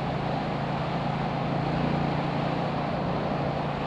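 A 2018 KTM 790 Duke motorcycle's exhaust drones steadily while riding, a continuous low engine note under broadband rushing wind noise, loud and unbroken throughout.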